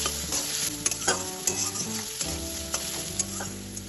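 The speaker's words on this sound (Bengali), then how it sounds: "ভালোভাবে এবার তেলের সাথে একটু নাড়াচাড়া করব।" Chopped onion fries in oil with a pinch of salt for masoor dal, a dense close sizzle broken by frequent clanking, scraping stirs against the pan, no talking.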